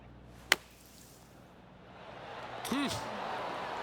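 A golf ball is struck from a greenside bunker in a video game, a single sharp crisp hit near the start, followed by a commentator's voice over faint ambient crowd murmur.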